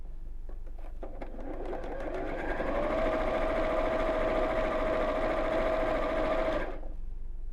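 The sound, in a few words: sewing machine stitching a curved fabric edge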